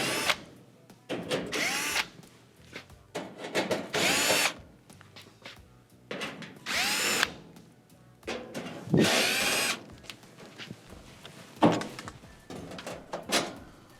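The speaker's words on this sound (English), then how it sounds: "to remove your bottom rear panel, you remove the 1/4-inch screws." A power driver whirs in repeated short bursts, backing out 1/4-inch screws from the bottom rear panel of a Frigidaire oven, with quiet clicks and handling noises between runs.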